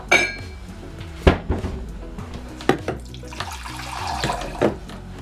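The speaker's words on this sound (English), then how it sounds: "And we're going to also put in a little bit of water." A little water is poured into a blender jar while a detox drink is being made. A few sharp knocks and clatters from handling come first, then a soft splashing trickle.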